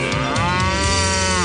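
Cattle moo in a radio advertisement, one long, loud, drawn-out low bellow heard close and on its own.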